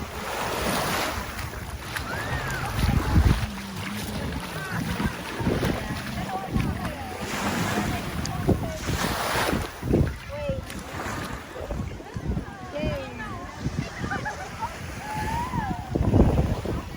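Ferry boat engine rumble as it arrives at a pier, with water lapping and gusty wind buffeting the microphone, people talking nearby in the background.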